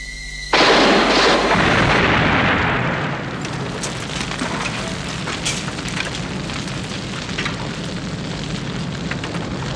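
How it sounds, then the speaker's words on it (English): A sudden loud explosion near a warehouse in a 1979 TV drama, booming in at once and fading into a long crackling roar of burning debris. "Explosion."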